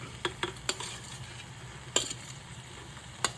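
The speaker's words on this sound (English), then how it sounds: "I'm going to add my vegetables in it. Potatoes, eggplant and capsicum." Potatoes, eggplant and capsicum stirred into sizzling curry gravy, a steady soft frying hiss broken by a few sharp utensil clicks and scrapes against the pan.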